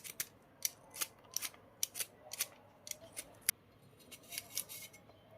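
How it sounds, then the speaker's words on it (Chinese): A vegetable peeler scrapes the skin from water chestnuts in quick, crisp strokes, a dozen or so close, rasping scrapes in an uneven rhythm with nothing else heard. "用个削皮刀像这样给它刮一下"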